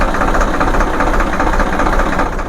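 A tractor engine, its idle speed being set at the fuel pump nut, runs at a steady idle close by with a continuous low rumble and slight rhythmic fluctuation throughout.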